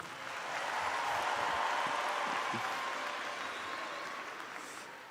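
Audience applause greets Pauline and Mélanie as they are invited forward, a dense steady wash of clapping that swells in and holds throughout, with no voices over it.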